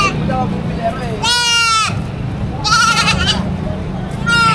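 Goats bleat at a livestock auction in Padre Garcia, Batangas, with two loud, wavering cries and a third starting at the end, over a murmur of crowd noise.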